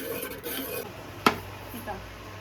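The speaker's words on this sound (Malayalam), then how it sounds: "അപ്പോൾ ഇങ്ങനെ ഒരു സൈഡ് ഇളക്കാം" Ragi dough being stirred in a pan with a spoon, a soft scraping and rubbing that runs steadily throughout, with one sharp knock of the utensil against the pan near the middle.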